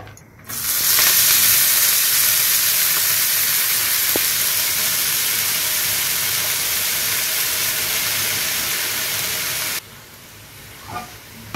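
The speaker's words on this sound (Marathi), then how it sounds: "तुपामध्ये भाजून घ्यायची आहे मेथी" Fenugreek leaves (methi) roast in hot ghee in a pan, giving a steady, loud broadband sizzle that runs for about nine seconds and then cuts off abruptly, leaving quieter room sound with a brief tap near the end.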